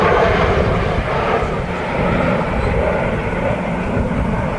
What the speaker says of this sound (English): There's Lufthansa A321.